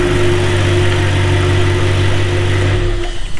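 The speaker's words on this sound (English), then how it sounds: "Now we shut down and turn ignition off." An Audi R8 with R-tronic transmission idles steadily in a workshop after a clutch replacement, a loud even engine hum with a low tone that cuts off near the end as the ignition is switched off.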